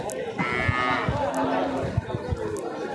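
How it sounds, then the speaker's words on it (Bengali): Cattle at a busy cow market in Kalampur, with several low, drawn-out moos rising over the crowd's chatter and background voices. "এখানে একটা গরু দেখা যাচ্ছে"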